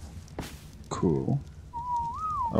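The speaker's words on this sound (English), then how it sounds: "Don't whistle." Character whistling in ARK: Survival Evolved, a clear rising and falling whistled tone of about a second, following short bursts of game noise and a brief harmonic sound, heard close and alone without talk.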